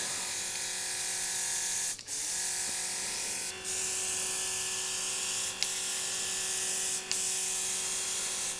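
A battery-powered airbrush compressor runs while spraying paint through an Iwata and GSi Creos airbrush, a steady close-up electric whine and hum with a few short dips where the flow stops.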